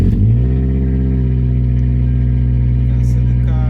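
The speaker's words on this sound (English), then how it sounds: "can see the car is revving" A car engine starting for the first day's run, on a car with poor performance and high fuel consumption, settles into a steady, loud, close-up running drone with strong low harmonics throughout.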